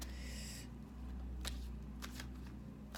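Crisp riffling of tarot cards being shuffled, a dense burst at the start followed by a few sharp snaps, close and quiet with no talking.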